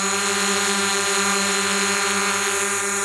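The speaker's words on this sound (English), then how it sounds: "it's beeping, warning her that she's close to an object" A rapid, steady electronic beeping, a DJI Mavic Pro drone's obstacle proximity warning, repeats over a loud, constant whirring drone of spinning rotors, nearby and continuous.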